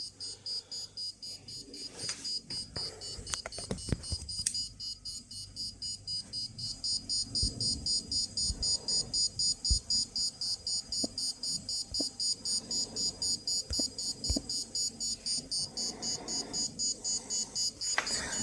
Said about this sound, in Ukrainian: Спрацювала сирена, сигналізація, ось все.